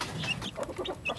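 Farm chickens, a hen with newly hatched chicks, cluck in short soft bursts close by, a few quick calls with no talking.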